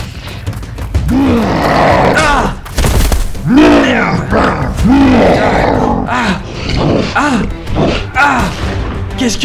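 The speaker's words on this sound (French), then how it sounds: "J'entends ces grands loups me courir après." Large wolves in a video game growl and roar in a series of loud, rough, rising-and-falling snarling calls with thuds, close and continuous for several seconds.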